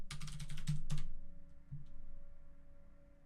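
Several quick keystrokes tapped on a computer keyboard as a passphrase is entered, a short clustered burst followed by a couple of isolated clicks, close and fairly quiet with no talking.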